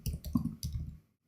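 Quick bursts of keys clatter on a computer keyboard, three short clusters of close clicks that then stop into quiet.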